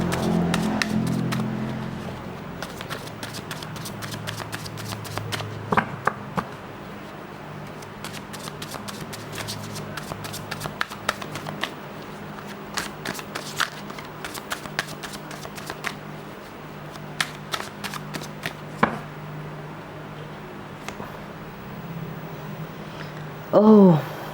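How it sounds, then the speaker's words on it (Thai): Tarot cards are shuffled steadily for a long stretch, a soft continuous riffling with scattered sharper card snaps and taps, fairly close and quiet, with no one talking. "เชื่อไหมว่าวันนี้ทั้งวันสับไพ่ไม่รู้เป็นอะไร"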